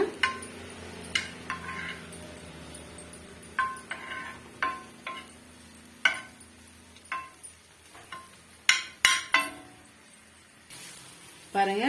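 Lemon chutney being stirred on a hot dosa tawa, with soft sizzling beneath a series of sharp, irregular scraping clicks of the spoon against the metal pan, some louder than others.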